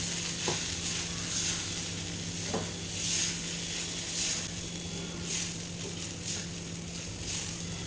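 Okra and grated coconut are stirred in a pan for Kerala vendakka thoran, with soft scraping and faint sizzling in a few gentle strokes, quiet and close.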